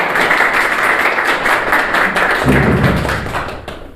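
A crowd claps steadily, a dense even patter of applause that fades out toward the end.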